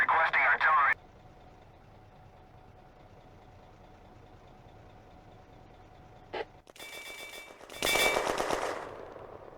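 Gunfire and artillery in the World War II game Firefight, set in May 1940: a short burst, a quiet stretch, a single sharp crack, then a loud rattling salvo near the end.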